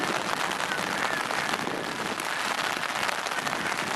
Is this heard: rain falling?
yes